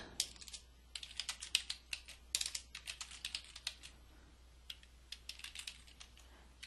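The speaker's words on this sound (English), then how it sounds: "I'm just going to type, you know, just stuff" Quiet typing on a computer keyboard, a run of soft, irregular key clicks in quick bursts with brief pauses between them, close by with no talking.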